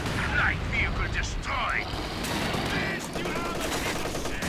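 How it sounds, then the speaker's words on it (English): A T-70 light tank fires on a Kub wagon during a Company of Heroes 2 4v4 match: loud, close bursts of gunfire and blasts at the start, then a sustained rumble of battle noise. A commentator talks over it. "T-70 starts firing on the Kub wagon."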